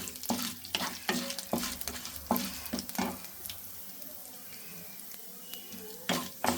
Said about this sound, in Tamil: கொஞ்சம் சீரகம் போடுறோம் ரெண்டு காஞ்ச மிளகா போடலாம்